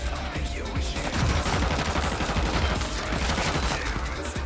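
Heavy video game gunfire, a loud, dense rattle of automatic shots firing continuously throughout with no gaps.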